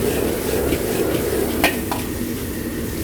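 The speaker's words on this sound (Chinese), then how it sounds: "小火給它煸炒一下，把油給它煸起來。" Cured pork belly stir-fries in a wok over low heat, giving a soft continuous sizzle with a few sharp spatula scrapes and clinks against the metal.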